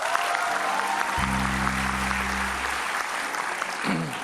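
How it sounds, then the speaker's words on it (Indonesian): Loud, steady audience applause for the cast and director of a horror film, The Secret: Riana, with a held musical chord swelling through the middle of the clapping. "sekali lagi tepuk tangan buat mereka"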